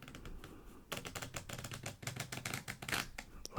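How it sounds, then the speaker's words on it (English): A deck of playing cards given a riffle shuffle, dense rapid flicking and ticking of cards close up and quiet, with a few bursts as the halves interleave and settle. "I am going to begin by giving the deck a little bit of a riffle shuffle."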